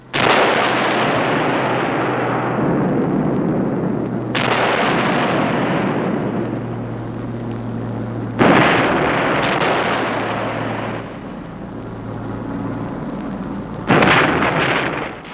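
Bombs exploding on target during a WWII air raid on Cassino, a continuous loud roar of blasts with three sharp new detonations that each swell and slowly fade, heavy and sustained with no voices.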